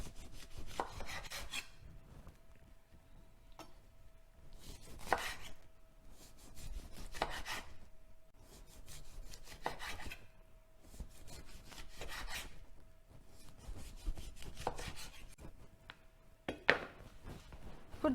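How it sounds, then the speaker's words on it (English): A knife slicing mandarins on a cutting board, with repeated soft rasping cuts in slow bursts spaced a couple of seconds apart and a faint ping near the end. "I'd take out a few mandarins and cut them in slices like these."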